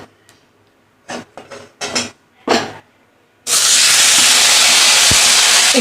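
Ground onion, chilli, cumin and ginger paste dropped into hot oil, a few clinks and scrapes of a pan first, then a sudden loud, steady sizzling hiss that continues to the end.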